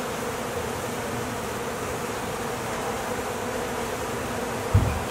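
A steady, dense insect buzz of many honey bees at an external hive on a tree branch fills the scene continuously, moderately loud and close, with a brief soft thump near the end.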